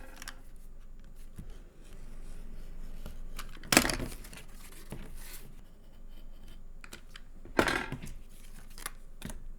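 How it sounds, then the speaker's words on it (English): Paper being cut out with scissors for a children's paper-roll polar bear craft, a quiet rustling snip texture with two sharper, louder cuts standing out, close by and with no talking. "Cut them out."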